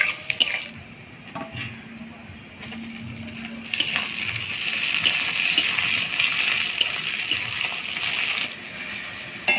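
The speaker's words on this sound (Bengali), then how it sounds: "টমেটো দিয়ে ভালো করে নাড়াচাড়া করে নিলাম।" Chopped tomatoes land on fried onions in a hot pan and get stirred for mutton curry, giving a watery sizzle that swells after a few seconds into a steady hiss with scraping clinks.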